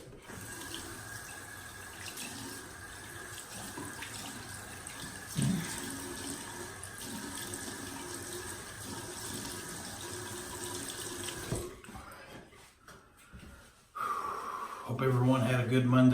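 Tap water runs steadily into a sink while a face is wetted before shaving, a continuous close hiss that stops near the end as water splashes and a voice speaks.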